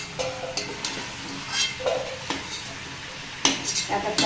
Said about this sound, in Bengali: বেশ কিছুক্ষণ চিকেনটা ভাজা ভাজা করে নিয়েছি